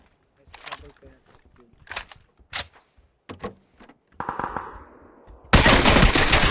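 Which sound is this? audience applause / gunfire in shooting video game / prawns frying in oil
gunfire in shooting video game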